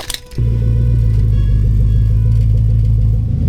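A car engine starts and then rumbles steadily close by, a deep continuous drone that holds for several seconds after a brief sputter at the start; the setting is an emergency roadside repair of a VW T5 bus with a flat battery.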